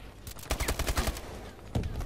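Machine gun fire in the video game Advanced Warfare, a rapid burst of about a dozen sharp shots in quick rhythm, then a pause and another short burst, fairly close and punchy.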